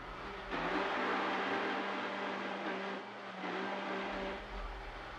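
A blender blends dates into a paste, starting low and ramping up: a loud steady motor whine with a brief dip in pitch and volume partway through, then strong again.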